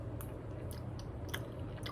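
Someone chews a frugal meal with pork chop close to the ear, with soft wet chewing and a few brief crunchy bites spaced through a short stretch.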